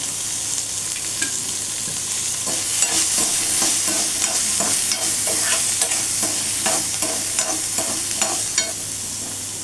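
Onions sautéing with salt in a pan for a capsicum chutney: a steady, close sizzle runs throughout, broken by repeated scraping stirs of a spoon against the pan, with no voices.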